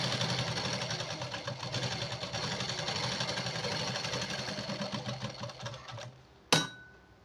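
A sewing machine runs continuously while stitching a blouse sleeve, a fast even mechanical whir that carries on for several seconds before stopping, followed by a single sharp click.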